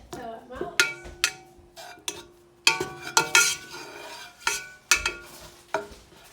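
A spoon stirs butter in a cooking pot until it melts, making sharp intermittent metallic clinks and scrapes against the pot in an irregular rhythm, with faint talk in the background.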